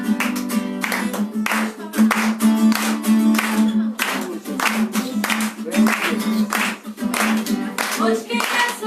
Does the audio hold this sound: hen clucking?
no